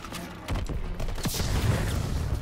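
Gunfire rattles through a World War II battle in the shooter game Call of Duty: WWII, dense bursts of rifle and machine-gun shots cracking over a continuous rumble of combat noise.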